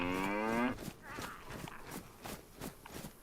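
A cow moos loudly in the survival video game DayZ, one long, rising low call at the start, followed by soft footsteps and faint rustling.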